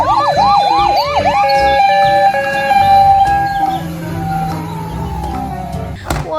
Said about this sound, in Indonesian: Nah, lihat adik-adik, ini ada mobil ambulan.